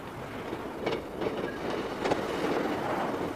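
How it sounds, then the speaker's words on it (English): A Class 155 train rolls toward a stop, a low steady rumble of wheels on rails with faint clicks and a slight squeal over the top. "As the train approaches its first stop"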